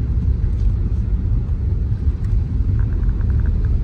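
A truck drives through shallow floodwater on a road, throwing up waves of water; a steady, loud low rumble of engine and churning water runs throughout with no pauses.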